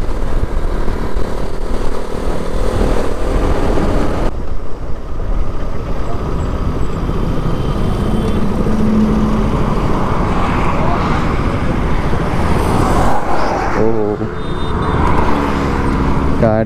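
A Bajaj Pulsar RS200 motorcycle in a drag race against another bike, its engine roaring loud and continuous with heavy wind rush throughout, rising in pitch near the end as it accelerates.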